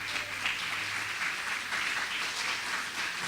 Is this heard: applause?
yes